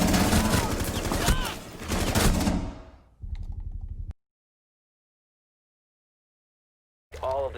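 Automatic weapon fire in the game Rainbow Six Siege rattles in loud dense bursts, broken by short gaps, a few seconds of silence and a final burst.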